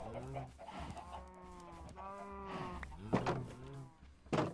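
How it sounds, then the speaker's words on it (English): Chickens cluck and squawk in the video game Minecraft, several overlapping calls and short cackles in a busy flock, close and moderately loud, with no talking. "I might have to kill some of these chickens."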